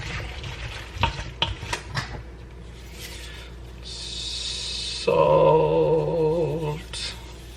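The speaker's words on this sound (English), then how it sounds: "Mix that in a little bit, stir it around, get it all over the place" Mayo being stirred into a food mixture in a bowl, giving soft wet squelching and scraping strokes, with a few sharper knocks and some louder clattering toward the end.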